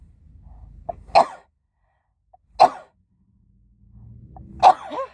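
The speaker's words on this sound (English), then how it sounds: "I got to sneeze." Three sharp sneezes spaced about every second and a half to two seconds, close and loud, with quiet pauses and faint low rumble between them.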